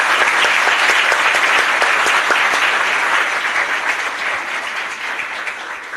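A church congregation claps in steady, sustained applause, many hands close and loud throughout, easing slightly in volume toward the end with no talk over it.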